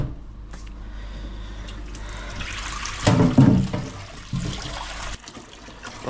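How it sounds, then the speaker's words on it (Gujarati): Tap water splashes into a large kadai (wok) as it is rinsed, a continuous running stream with a louder surge of splashing midway and a brief drop near the end. "કઢાઈને પહેલાં આપણે પાણી મારી હું"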